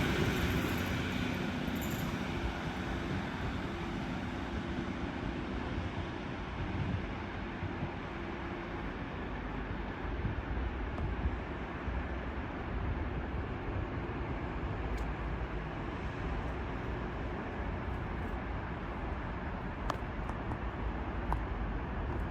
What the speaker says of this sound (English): Train also leaving is a 150 going to Blackburn